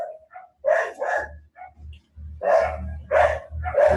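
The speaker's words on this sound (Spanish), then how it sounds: "creo que el perro es de mi lado" A neighbor's dog barks outside, several sharp barks in two bursts separated by a short pause, fairly loud and nearby with no talk over it.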